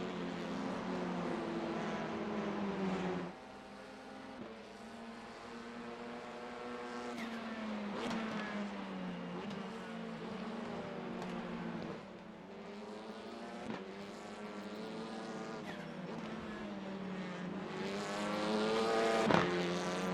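TCR touring car engine in the iRacing sim at Summit Point, a steady loud revving drone with repeated upshifts and rising pitch sweeps, dropping on lifts around 3 and 12 seconds and peaking near the end.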